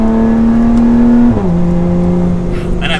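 A Lotus Evora 400 engine holds a loud, steady revving drone that drops in pitch partway through as it shifts, then carries on at a lower note, running alone without talk.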